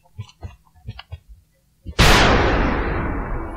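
A single loud gunshot rings out from a weapon in the strategy game X-COM: Enemy Unknown, a sharp blast trailing into a long decaying roar, after a few faint muffled thumps.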